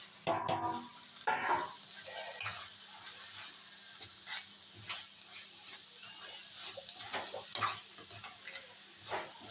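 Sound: tomato pieces frying and being stirred in a pan

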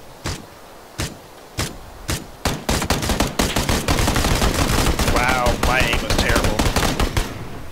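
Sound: suppressed gunfire in a video game

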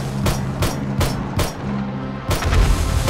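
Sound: explosion in the video game 7 Days to Die

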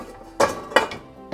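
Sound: dishes and baking tray being loaded into dishwasher

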